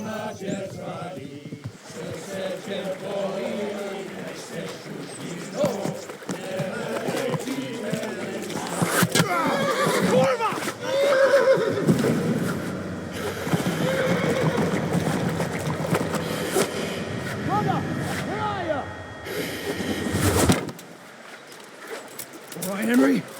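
Horse whinnies and neighs amid a busy outdoor scene, with hoof clatter and people shouting and talking throughout.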